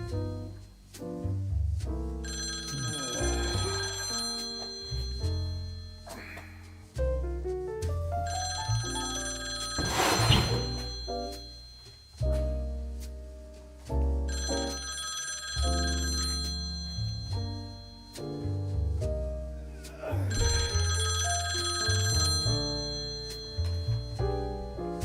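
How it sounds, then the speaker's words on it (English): A telephone rings in repeated bursts of bright, trilling bells with brief silences between rings, loud and close. "Is the phone ringing?"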